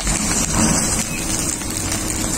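Banana-leaf-wrapped fish patoori frying on low flame in a covered pan gives a steady, dense crackling sizzle that holds evenly throughout, close and fairly loud, with no voices.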